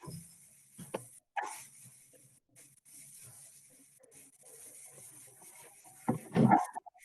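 Barks and whimpers from female dogs shut outside a door come in scattered short bursts, with a louder cluster near the end, against a quiet background.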